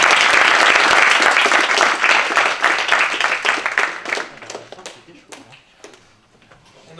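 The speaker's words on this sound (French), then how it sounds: "je crois qu'on peut applaudir nos intervenants" Audience applause at the close of a French round-table discussion on video game authorship, a dense burst of clapping that starts loud and full, then thins out and fades over several seconds into scattered claps.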